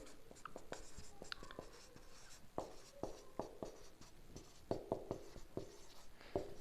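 Marker or chalk writing on a board during a maths lesson on derivatives, with a steady series of short taps and scratchy strokes at close range and no talk over them.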